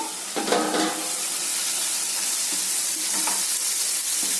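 Grated carrot and tomato sauté in a hot pan, giving a continuous close sizzling hiss with a few soft stirring scrapes near the start, and no voices.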